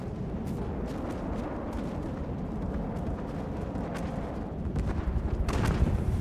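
Missiles pound a helicopter in the game From The Depths, a dense rumbling barrage of blasts and crackling impacts that builds toward the end, loud and continuous without talk.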